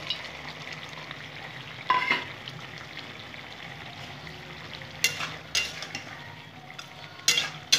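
Tengra fish go into a bubbling gravy made with green tomato, which hisses and sizzles steadily nearby. Several bright metallic clinks and scrapes from a spoon against the pot mark the stirring.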